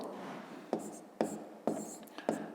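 Numbers are written by hand, likely with a pen on paper, making a few quiet, close scratchy strokes in a short series.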